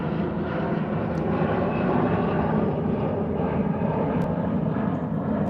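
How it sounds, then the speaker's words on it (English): An airplane flies directly overhead with a loud, sustained engine rumble, steady and close throughout, with no voices over it. "The airplane went right overhead."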